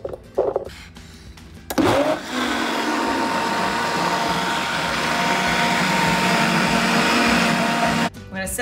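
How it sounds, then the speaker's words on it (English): Kitchen blender pureeing carrots, sweet potatoes and chickpeas, a loud steady motor whir running for several seconds between short bursts of handling noise at the start and end. "Carrots and sweet potatoes in the blender."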